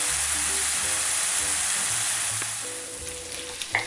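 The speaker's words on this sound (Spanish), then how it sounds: "vamos a pochar las cebolletas. Y las vamos a mantener hasta que esté dorada." Chopped spring onions fry gently in a pan, a steady close sizzle that fades slightly toward the end as a utensil clinks once or twice.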